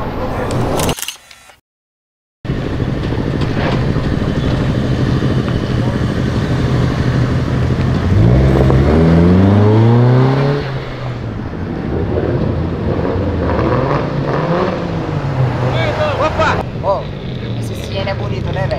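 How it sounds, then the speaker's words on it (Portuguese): A VW Gol racing on three wheels around a track in a driving video game, its engine droning loudly and steadily, with a brief drop to silence early on and rising, swooping revs in the middle. "esse golzão aqui tava andando em 3 rodas na pista"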